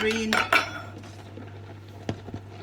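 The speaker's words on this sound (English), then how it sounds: "what I'm going to do now then is a colander that I'm going to put in the sink" A metal colander set down in a kitchen sink while macaroni is being made, giving a couple of loud clattering knocks up close followed by a few fainter taps.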